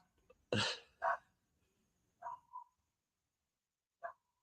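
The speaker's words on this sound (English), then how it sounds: "We got all the dogs barking." A few short, muffled barks from a dog a little way off, followed by softer yips and one last brief bark in a quiet setting.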